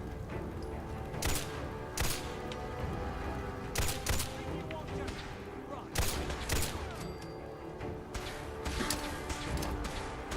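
Rapid bursts of gunfire in a Fallout 4 battle against Gunners, sharp volleys recurring every couple of seconds over a dense, continuous clatter of shots and impacts.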